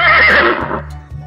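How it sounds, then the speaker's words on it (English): A horse whinnies loudly and close, a bright wavering call that trails off, with a low steady hum underneath. "Horse."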